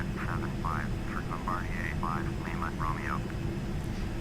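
Steady engine drone of a Learjet 45 in the FSX flight simulator game, constant and even throughout, with someone talking over it.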